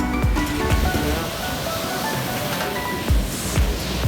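Steady roar of surf washing onto Kappil Beach in Kerala, loud and continuous, with a few heavier wave crashes.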